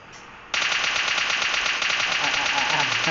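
Automatic gunfire in the battle royale game PUBG, a rapid even burst of loud close shots that kicks in after a short quiet start and keeps going steadily to the end.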